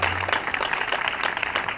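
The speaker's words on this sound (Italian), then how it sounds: "E vi invito a fare un applauso ad Angela Ciconte per i torti" A crowd claps for candidate Angela Ciconte at an outdoor political rally in Decollatura, Casenove, in 2018. The applause is steady and dense throughout, with many hands fairly close.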